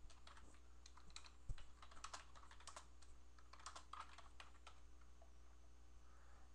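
Steady keystrokes on a computer keyboard during a programming lesson, quiet clicks in an irregular typing rhythm with one sharper tap, over a low constant hum and no talking.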